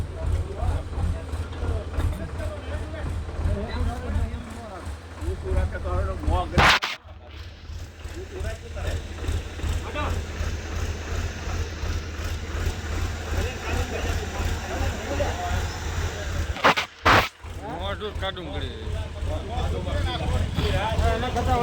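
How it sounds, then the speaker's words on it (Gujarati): A tractor engine runs during a cow rescue, giving a steady low throb that continues under people talking, broken by a couple of brief bumps and clatters. "ટ્રેક્ટર શરૂ થઈ ગયું"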